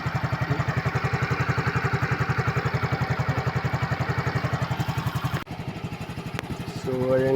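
A Yamaha Mio scooter engine, flooded with water, idles nearby with a steady, fast putter, briefly dipping then revving slightly near the end.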